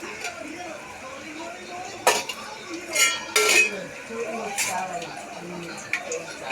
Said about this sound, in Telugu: కడాయి పెట్టేసుకొని నూనె పోసి, నూనె కొద్దిగా పోద్దాం